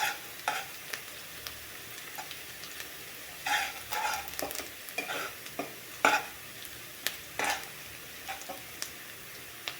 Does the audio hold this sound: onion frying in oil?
yes